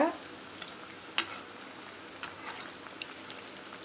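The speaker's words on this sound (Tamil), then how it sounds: "இப்போ நம்மளோட வடை வந்துட்டு வெந்துட்டுருக்கு" Keerai vada made with arai keerai fry in hot oil over a lowered stove flame, giving a soft steady bubbling sizzle with a few light pops and clicks, close and quiet, with no talking.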